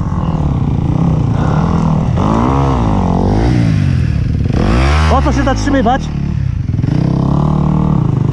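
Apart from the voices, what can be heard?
four-stroke motorcycle engine revving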